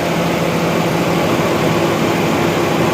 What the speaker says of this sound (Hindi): ये कंप्रेसर जो है ना ट्रिप कर गया है, ये देख रहे हो।